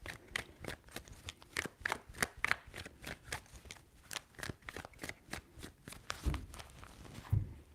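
Tarot cards shuffled by hand give a rapid series of crisp riffling slaps and flicks at an irregular rhythm, close and fairly quiet, with no voice over them.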